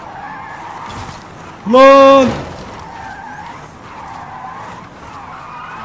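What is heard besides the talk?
Hyundai Ioniq 5 N drifting, tires skidding, video game Forza Horizon 5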